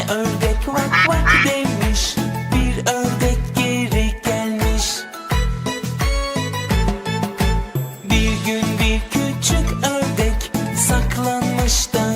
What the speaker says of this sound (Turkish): ördek vak demiş